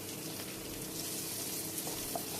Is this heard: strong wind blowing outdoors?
no